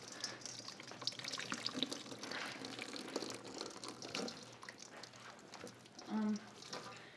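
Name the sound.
draining grease and liquid from a pot of cooked meat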